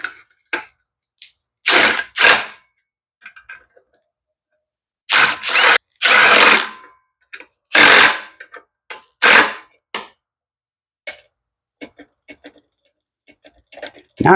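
A power drill or driver whirs in short bursts while driving a screw on a lawn mower, with clicking ratchet sounds and brief pauses of silence between pulls, close by.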